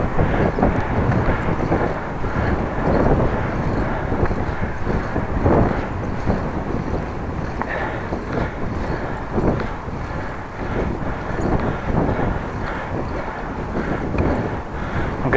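Strong wind roars across the microphone while riding a bicycle, a continuous loud buffeting rumble that fills the whole stretch with no break.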